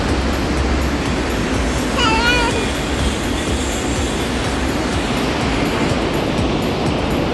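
The Río Blanco river in Ecuador rushes by in a loud, dense, steady roar of water, close and unbroken, with a brief high chirp near the start.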